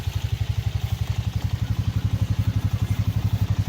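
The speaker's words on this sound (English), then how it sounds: "this air compressor" A 200 PSI air compressor running close by, its motor thumping in a fast, steady pulsing rhythm with a low, loud mechanical chug and no pauses.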